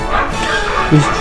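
Dogs outside at night give a quick bark and yip, close and fairly loud over steady background noise.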